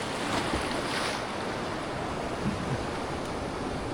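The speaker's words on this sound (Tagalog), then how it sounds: "Doon tayo sa may malakas na alon na yun guys." Strong ocean waves surge in a constant, loud wash at a seaside fishing spot as the tide rises, with wind buffeting the microphone and no voices.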